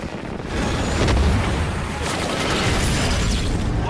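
A movie explosion strikes an aircraft under fire from drones, a loud continuous rumbling blast with a dense low roar that swells after a moment and holds steady without letup.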